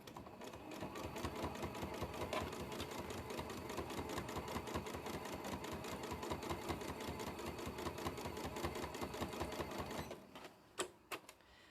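Sewing machine stitching a fabric book cover, running a steady rapid chatter of needle strokes for about ten seconds before stopping, followed by a few faint clicks.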